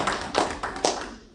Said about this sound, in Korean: 이럴 때는 박수 한번 주셔.